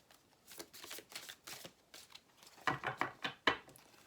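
A deck of cards is shuffled by hand up close, at first in soft separate riffles and then in louder, quicker bursts of flicking and snapping near the end.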